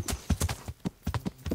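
Horse hooves clip-clopping in Kingdom Come: Deliverance, a fast, uneven run of hard close strikes with low thumps beneath.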